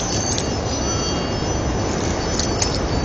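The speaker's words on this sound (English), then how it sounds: "Choo-choo train!" A passing train rumbles loudly and continuously with squealing wheels on the rails, close and steady throughout.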